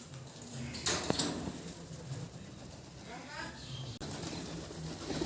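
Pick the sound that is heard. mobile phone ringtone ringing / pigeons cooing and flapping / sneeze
pigeons cooing and flapping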